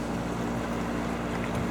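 A four-engine patrol motorboat on a lake gives a steady low engine drone with wind rumble mixed in, continuous and fairly loud throughout.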